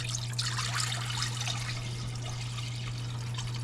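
Homemade broth poured from a pot into another vessel, a steady liquid trickle and splash lasting several seconds over a constant low electrical hum, no speech.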